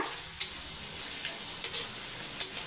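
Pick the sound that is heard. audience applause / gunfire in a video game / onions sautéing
onions sautéing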